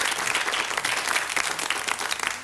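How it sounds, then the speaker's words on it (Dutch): Studio audience applause on a Dutch television show, a dense, even wash of clapping from many hands, moderately loud and continuous without a break. "Uw applaus, dames en heren."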